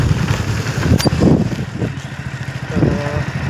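A motorcycle engine runs with a moderately loud, steady low rumble that rises and falls slightly in pitch. No one speaks.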